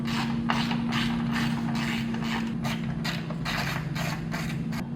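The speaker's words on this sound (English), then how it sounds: "So first I'm going to remove the T30 bolt." A ratchet wrench clicks steadily while backing out a T30 bolt on a light bar bracket of a 2025 RAM 2500/3500 HD, with repeated close, loud ratcheting strokes and no talk.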